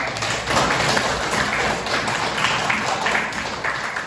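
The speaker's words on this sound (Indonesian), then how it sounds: "tepuk tangan untuk Najwa." Classroom applause for a student: a steady, dense patter of many hands clapping together, close and even in loudness throughout, with no talk over it.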